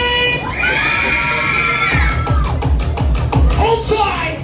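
Riders screaming on a funfair ride at a recreation ground, a loud crowd of high-pitched shrieks and whoops sustained over the clanking, rumbling ride, with shouting voices mixed in.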